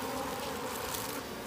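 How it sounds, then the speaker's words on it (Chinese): Honey bees swarming around a wild hive in an old hillside forest give a dense, continuous, close buzz that holds steady throughout. "这小蜜蜂刚刚出来，"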